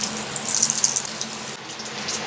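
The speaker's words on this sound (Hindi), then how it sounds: "अब हम इसमें चीज़ बॉल डालेंगे।" Cheese balls drop into hot, previously used frying oil, setting off a steady, close bubbling sizzle with faint crackling pops throughout.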